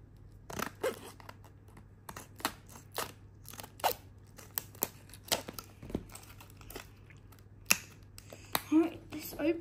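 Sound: cutting padlock packaging

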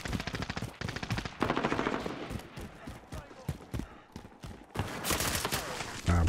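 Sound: shotgun gunfire in the video game Call of Duty Modern Warfare

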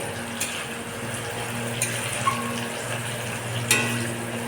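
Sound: frying spices and whole chillies in a pan on gas stove

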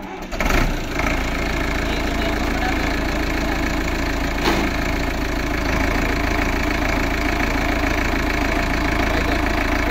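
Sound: Sonalika Tiger DI 55 tractor engine running

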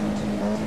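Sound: Formula Junior race car engine and throttle in Automobilista 2 video game

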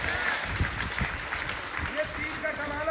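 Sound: applause at a religious gathering

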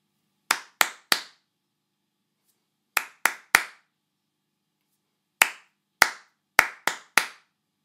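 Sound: hands clapping rhythms

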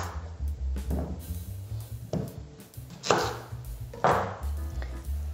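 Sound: cutting potatoes in half with a knife

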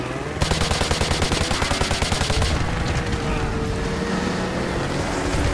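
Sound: gunfire in the video game Modern Warfare 2 Remastered

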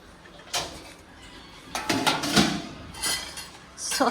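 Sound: plates being laid out one by one for a meal

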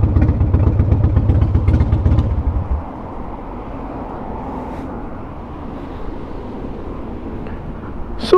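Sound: Harley CVO Wide Glide motorcycle engine in first gear

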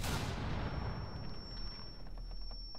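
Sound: grenade explosion in video game Rainbow Six Siege

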